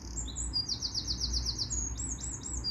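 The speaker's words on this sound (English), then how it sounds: "they're listening to that bird song" A songbird on a small farm sings a run of quick, high chirps and trilled phrases, clear and fairly close over a low, steady background rumble.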